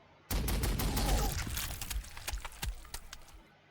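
Gunfire from the Warhammer 40,000: Sanctus Reach video game, a dense burst of rapid overlapping shots and sharp cracks that starts abruptly and continues with scattered louder reports, heard alone with no talking.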